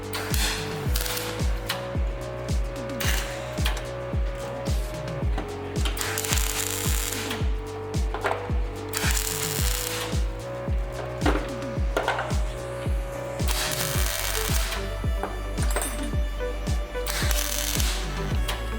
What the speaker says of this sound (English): all I need to do is linish off all of the under seal down here